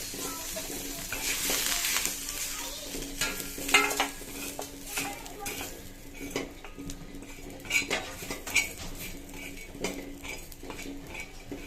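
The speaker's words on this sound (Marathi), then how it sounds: "दोन कांदे घेतले, भाजून घेऊया आपण।" Two onions roasting in a pan for an egg curry masala: a soft sizzle with a spoon scraping and stirring against the metal in irregular bursts, close and fairly quiet.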